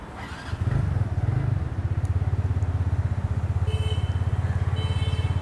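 A TVS NTorq Race XP scooter engine fires up via its start-stop button and settles into a steady, rapid idle putter, close and continuous with a faint mechanical clatter.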